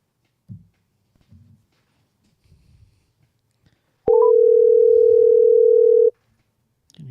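A telephone dial tone comes on abruptly and holds as a steady, loud hum for about two seconds, after a few faint handling bumps and clicks in near silence.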